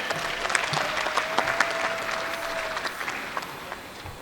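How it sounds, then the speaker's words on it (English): A crowd at a dairy cattle show claps for the Ayrshire Grand Champion cow, a steady round of applause from many hands with a few sharper claps, moderately loud and gradually tapering off. "Let's have a nice round of applause for the Ayrshire Grand Champion."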